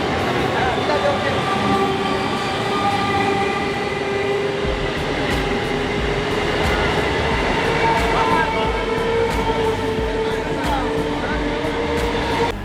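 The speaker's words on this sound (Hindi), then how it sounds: "हमारी ट्रेन जो है अभी वर्धमान से आगे निकली है" Interior of the Jodhpur SF Express passenger train running between Burdwan and Howrah: a steady, loud rumble of the moving coaches with faint rhythmic clicks from the rails throughout, no talk.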